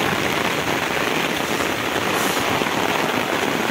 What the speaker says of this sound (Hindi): अबे इसको बारिश बोलते हैं।